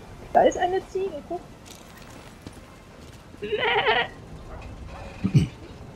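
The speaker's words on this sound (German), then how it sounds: "Da ist eine Ziege, guck." A goat in The Elder Scrolls video game bleats several times, short nasal calls near the start, a louder wavering bleat in the middle and another near the end, with hoof-like clops and a voice talking in between.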